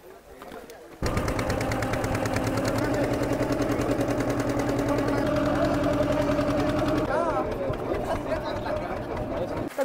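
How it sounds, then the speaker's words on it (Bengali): A loud, steady motor drones from a ferry boat crossing from Patibunia ghat to Mousuni Island. It starts abruptly after a second of quieter background, then runs continuously with a rapid, chugging rhythm and some voices in the background. "তো পাতিবুনিয়া ঘাট থেকে এখন বোটে করে পার হব।"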